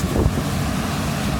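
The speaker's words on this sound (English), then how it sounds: "sorry, the wind's getting kind of loud." Strong wind buffets the microphone outdoors on a building rooftop near a cooling tower and catwalk, a loud, continuous low rumble of gusts with no talking.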